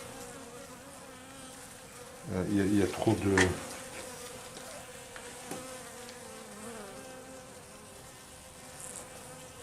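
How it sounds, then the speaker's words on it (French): Bees swarm around a crowded hive during an oxalic acid treatment, a faint continuous buzzing hum, with a short burst of handling noise and someone speaking briefly in French. "Il y a beaucoup trop d'abeilles, là."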